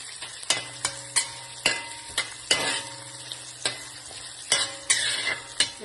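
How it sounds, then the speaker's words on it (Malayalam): Chopped garlic and ginger fry in a thick pan, a constant crackling sizzle broken by regular sharp scrapes and knocks of a spoon stirring, close up with no talk. "ഇത് നന്നായി നമുക്ക് വറുത്തെടുക്കണം"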